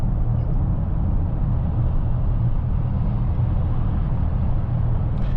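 A Mercedes-AMG S63 E Performance hybrid sedan accelerates hard, giving a loud, steady low engine and road roar that holds without a break from start to finish.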